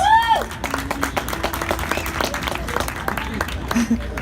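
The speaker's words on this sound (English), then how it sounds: "a round of applause to these guys" Audience applause at a SXSW event, scattered claps and crowd noise with voices talking over them.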